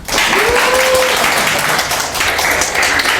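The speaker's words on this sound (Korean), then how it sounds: "우선 우리 조동현 교수님께 감사의 박수" Students in a quantum mechanics lecture hall clapping in thanks for a visiting professor, a dense, steady round of applause with a brief voice near the start.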